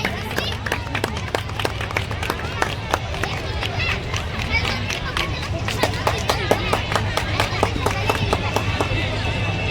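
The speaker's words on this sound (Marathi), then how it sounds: "जरा जोरदार टाळ्या परीक्षकांसाठी" Audience at a drawing competition award ceremony during the Kalva festival clapping for the judges, a dense, steady patter of many hands with crowd murmur and voices mixed in throughout.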